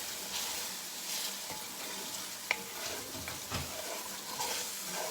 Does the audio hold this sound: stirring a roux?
yes